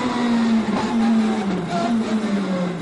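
A Pro-Motive R1 Mini race car's motorcycle-derived engine howls at high revs through fast corners, a loud sustained buzzing whine heard from inside the car that dips and climbs slightly with the throttle.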